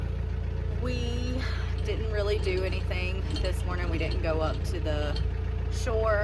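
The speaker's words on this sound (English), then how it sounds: "I'm sure you can hear the engine is on right now" A sailboat's engine runs at a steady low idle while the anchor is picked up, with occasional light clinks, all under continuous nearby talking.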